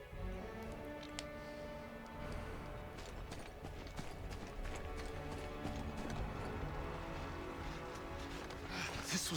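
Horses gallop in a steady, rapid clip-clop rhythm inside the Lord of the Rings: The Third Age video game, the hooves quiet and continuous across the whole stretch with no voices.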